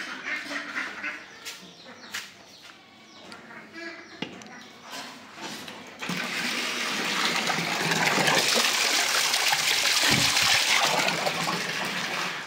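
Water pours steadily into a container to prepare drinking water for cattle; the rushing flow begins about halfway through and continues loud to the end, after a quieter stretch of farmyard sounds with possible duck quacks.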